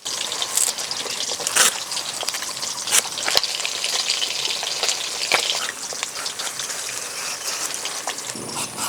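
Rohu fish frying in hot oil: a loud, steady crackling sizzle with sharp pops and occasional clinks, close up and without speech.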